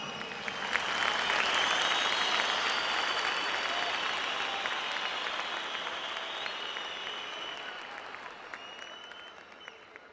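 A large crowd at a rally claps in sustained, loud applause that swells early and then slowly tapers, with no speech over it.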